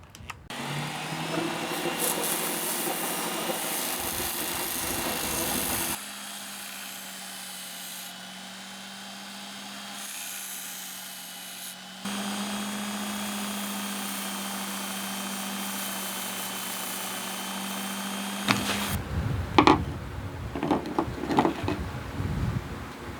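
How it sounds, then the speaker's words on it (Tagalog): A power file grinding surface rust off an old tool, a steady buzzing motor whine that runs in long sections with brief pauses, ending in irregular rubbing and handling noises. "So I'm just gonna use itong ating power file para lang alisin yung mga surface rust niya."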